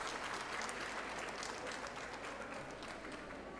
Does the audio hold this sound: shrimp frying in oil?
no